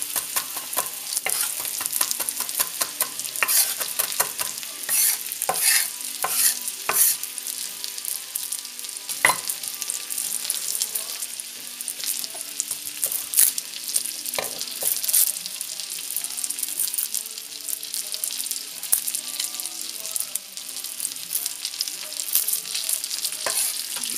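Pumpkin and polenta wedges fry in a pan with a steady bright sizzle, broken by frequent clicks and scrapes as the pieces are stirred and turned, close and continuous with no talk.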